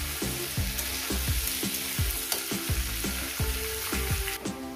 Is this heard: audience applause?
no